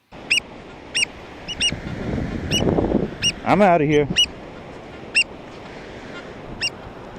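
An angry nesting bird on a beach honks loudly at a metal detectorist in a burst of harsh calls, with sharp repeated squawks before and after and a person briefly speaking.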